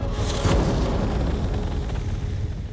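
A single handgun shot rings out sharply near the start, a loud boom-like burst that decays into a noisy, reverberant tail with no voices.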